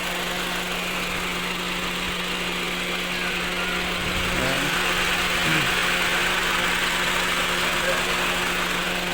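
A 2007 Honda CR-V engine idles steadily in an open engine bay, a close continuous hum with a low constant drone and slight vibration.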